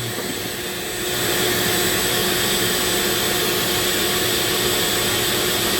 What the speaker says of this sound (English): It sucks down into my shop vac, so it takes care of the sawdust.